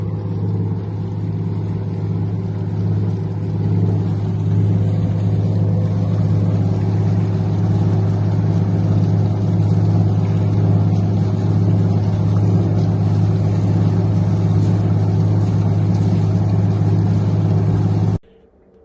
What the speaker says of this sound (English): This is the jet drive running up.